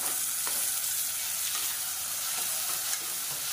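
Steady, continuous sizzling of chopped tomatoes frying in a pan, with faint stirring scrapes, close and evenly loud throughout.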